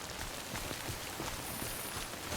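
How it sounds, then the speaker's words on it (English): Rain falls steadily in the video game Death Stranding, a dense, even hiss of patter that stays constant and fairly loud throughout. "Oh man, it's raining."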